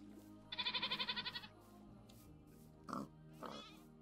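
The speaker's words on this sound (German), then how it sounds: "Hier die Schweine." Pigs in the Minecraft video game let out a rapid, pulsing run of grunts, followed after a pause by two shorter grunts, all clear and near against a quiet background.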